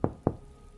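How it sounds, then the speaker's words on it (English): Two sharp knocks on a hotel room door, close and evenly spaced, followed by quiet room tone. "somebody knocked at the door again"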